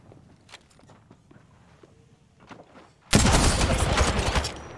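Sustained automatic gunfire from Apex Legends erupts suddenly after a few quieter footsteps and scattered sounds, then stays loud and dense to the end.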